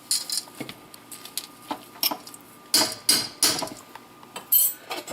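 Stove Top stuffing mix is stirred in a pot, giving close, irregular spoon scrapes and sharp clinks against the metal in quick bursts, with no talking.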